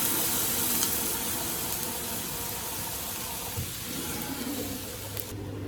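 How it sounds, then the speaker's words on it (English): Boiling water poured into a pan of fried eggs for egg and vermicelli soup, a continuous close hiss and rush of liquid and steam that holds steadily before easing near the end. "then pour in boiling water"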